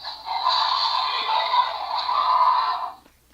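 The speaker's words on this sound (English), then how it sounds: "So that's a weird growl." Electronic growl from a Mattel Jurassic World Fallen Kingdom Roarivores toy dinosaur, triggered by a back button: a single buzzy, tinny synthesized roar about three seconds long, steady and fairly loud, then cutting off abruptly.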